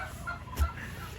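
Several turkeys gobble and cluck in a short burst, with a louder nearby call in the middle over a low rumble of background noise.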